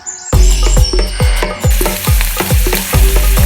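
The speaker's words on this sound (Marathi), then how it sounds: "आता रवा लावून डायरेक्ट आम्ही सुंगटा फ्राय करपाक घेऊया." Semolina-coated prawns fry in a pan over an open fire outdoors in a Goan jungle, a loud continuous sizzle broken by rhythmic scraping strokes of stirring or turning, close and steady with no talk.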